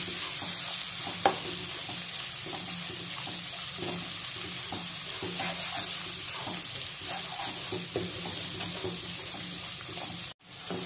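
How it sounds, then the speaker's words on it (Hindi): Ginger garlic paste frying in a pan while cooking mutton keema: a steady, close sizzle with faint stirring scrapes throughout, briefly dropping out near the end. "अदरक लहसुन को भी हमने अच्छे से भून लिया है।"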